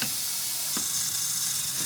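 Water sprayed onto a leaking throttle spring seal on the individual throttle bodies of an RB26 engine crackles and hisses steadily, with one brief sharper pop partway through, close up and without speech.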